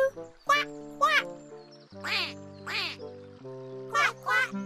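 Cartoon-style duck quacks come in three quick pairs, each a short, nasal, voice-like honk over a soft musical background, probably a performer imitating the duck.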